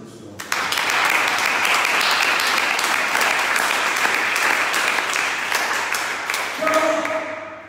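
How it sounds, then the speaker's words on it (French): A church congregation applauding at a sermon, loud sustained clapping from many hands that starts suddenly and fills the space for several seconds before tapering off. "Acclame ce que nous faisons."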